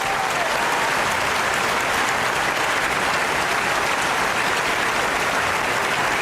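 An audience claps at a Blender digital content creators' showcase, producing a continuous, even wash of applause at full level from start to finish.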